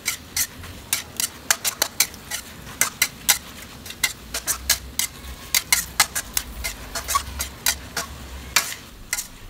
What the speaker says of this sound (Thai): ทีนี้ก็ผัดไปอีกสักแป๊บหนึ่งนะคะก็จะเสร็จแล้ว